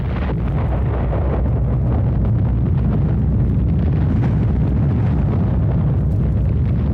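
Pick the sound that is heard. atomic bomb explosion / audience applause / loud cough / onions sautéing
atomic bomb explosion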